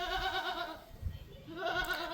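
Six-month-old female goat kids bleating nearby in a pen, two drawn-out wavering calls separated by a brief pause with faint background noise.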